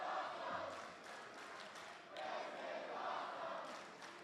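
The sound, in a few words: wrestling crowd chanting "This is awesome"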